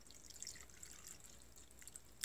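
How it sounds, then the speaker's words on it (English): Water pours into a citronella floating candle container, heard as quiet, scattered drips and a light trickle, faint and close with no talking. "And then you can add some water."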